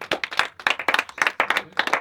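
A small audience at a comedy stage show claps in short, uneven bursts to answer a question, the close, sharp hand claps starting and stopping in quick clusters.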